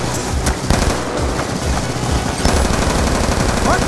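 Sustained automatic gunfire and explosions fill a Call of Duty Black Ops II campaign battle as a squad pushes toward a street under cover fire, dense overlapping bursts at loud, steady level throughout.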